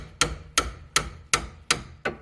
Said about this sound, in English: Always use a hammer.